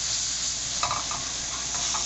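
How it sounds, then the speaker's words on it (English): Cooked potatoes are stirred with water into a paste in a soup pot, making soft, wet scraping and sloshing in a few short bursts over a low background hiss. "I'm going to mix that in"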